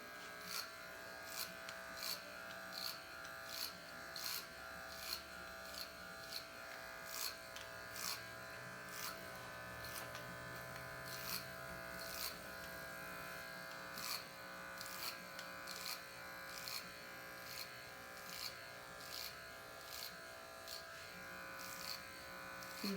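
Electric hair clippers buzzing steadily during a men's clipper cut, with a regular rhythm of short bright flicks and snips repeating throughout, close and quiet.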